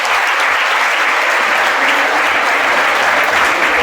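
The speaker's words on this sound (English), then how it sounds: "Clap for that girl." An audience of students at Huruma Girls High School applauds for a classmate, dense and even clapping that stays loud and continuous throughout.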